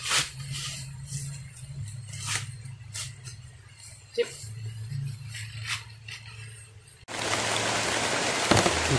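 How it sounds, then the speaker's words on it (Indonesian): Rain falling outdoors on a mountain slope during grass cutting, a steady wash of drops with scattered sharper impacts, swelling into a heavier, dense downpour toward the end. "Hujan turun"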